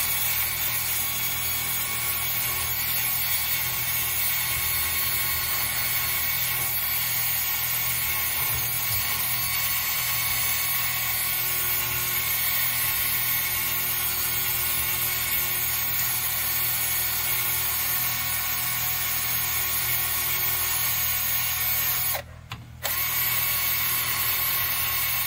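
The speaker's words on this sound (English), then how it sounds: "I'm gonna sand this edge up, then we'll do the middle of it there." The edge of a red oak natural-edge bowl is sanded on a wood lathe, making a steady, loud whirring hum with a rough sanding hiss that runs almost unbroken, with one short dropout near the end.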